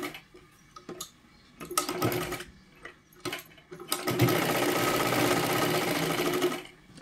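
A sewing machine stitches a katori blouse, size 36, in short stop-start bursts early on, then one long steady run of close, loud whirring stitches through the second half.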